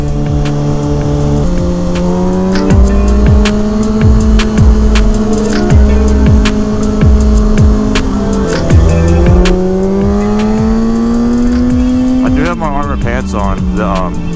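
Motorcycle ridden on a cold day before snow, engine droning loudly and steadily with repeated rises and drops in revs and gear changes, heavy wind noise throughout, ending in a sharp rev near the end.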